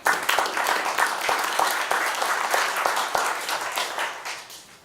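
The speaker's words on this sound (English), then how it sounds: "I just think we ought to do an attaboy applause for that" A meeting audience applauds in honor of the sheriff, a steady burst of clapping with some sharp individual claps, fading out toward the end, with faint voices underneath.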